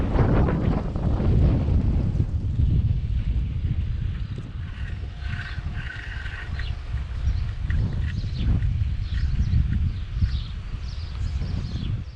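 Strong wind buffets the microphone during a wet, windy bicycle ride near the village of Las Tours, a loud, continuous roar and rumble, with faint clicks and rattles in the background and no talking.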